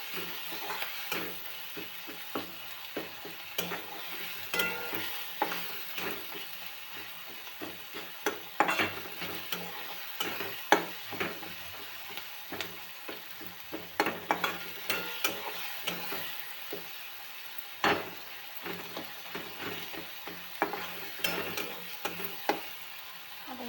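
Salted tomatoes being stirred and mashed in a pan for matki sukka, with steady soft sizzling and repeated scraping strokes of the spoon against the pan.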